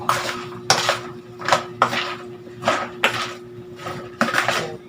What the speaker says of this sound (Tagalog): Ito, gamita ko na ng sandok.